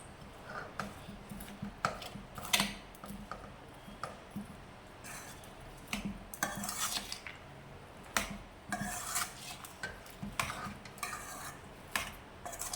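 A spoon stirs and scrapes a lemon pulihora-style rice dish with cashews in a cooking pan, a continuous faint run of rhythmic metallic scraping and clinks heard up close with no talking.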